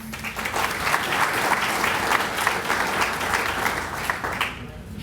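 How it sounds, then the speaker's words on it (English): Audience applause at a veterans event with the El Cajon mayor and council members present, a dense, even clapping that holds steady before quickly dropping off near the end. "We can hold off the clapping till the end here."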